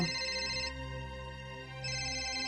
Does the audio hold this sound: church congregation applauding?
no